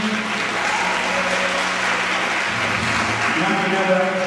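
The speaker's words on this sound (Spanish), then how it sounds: "fuerte el aplauso para todos ellos." Audience applause at a ceremony where young girls were crowned as princesses, a steady wash of clapping filling the whole stretch with faint voices mixed in.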